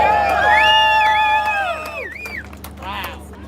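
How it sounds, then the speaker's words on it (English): A city hall crowd cheers, whoops and shouts for a Navy veteran being introduced as the next speaker, with loud, sustained voices that fade after a couple of seconds before a brief burst returns. "Please give a round of applause for Eric"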